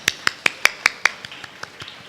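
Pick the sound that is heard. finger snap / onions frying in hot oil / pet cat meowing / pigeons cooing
finger snap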